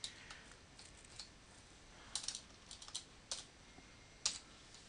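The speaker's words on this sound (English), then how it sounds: "I'll just type in string XX is equal to YY." Quiet, scattered typing on a computer keyboard in a Visual Studio coding session, with irregular soft key clicks and a few louder taps, no voices.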